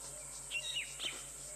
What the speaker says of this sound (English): that tiny, tiny owl was making that wonderful whistling sound.